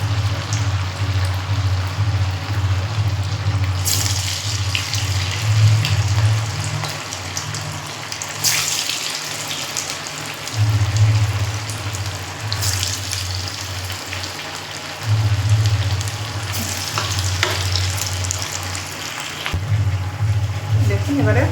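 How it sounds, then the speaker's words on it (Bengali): Fish kebabs deep fry in hot oil over a low flame, giving a steady, loud, bubbling sizzle that carries on throughout, with a low hum underneath. "ডুবো তেলে ভাজা হবে কাবাবগুলো।"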